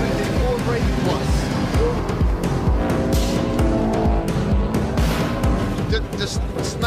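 Subaru Impreza rally car driving hard on a rally stage, engine roaring steadily with tires skidding and scrabbling, heard from inside the car under constant talk.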